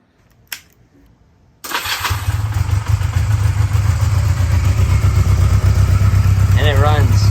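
A street bike engine fitted onto a go-kart cranks and catches, then settles into a loud, steady running drone close by, with a brief higher whine near the end.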